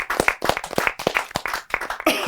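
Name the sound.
audience applause for Soni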